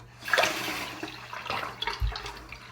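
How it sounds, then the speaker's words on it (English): Water runs from a faucet indoors in steady bursts, fairly close, with a low thump partway through and no talking. "you missed the water from the faucet?"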